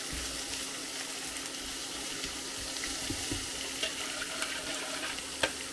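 Beaten eggs with garlic sizzling and frying in a pan for a breakfast dish, a steady close crackle throughout with a few small pops, no talking.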